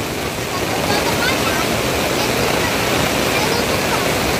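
Floodwater rushes at a flooded bridge, a loud, continuous roar of broadband water noise that holds steady throughout, with a voice speaking over it.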